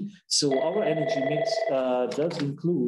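A telephone rings at an investment seminar, a sustained electronic tone sounding steadily beneath continuous speech before breaking off.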